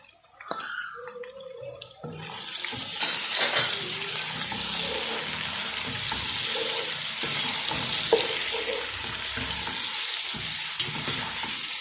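Tomatoes dropped into a hot frying pan for a daal mash dish burst into a loud, continuous sizzle after a brief clatter, crackling steadily close up with no talk.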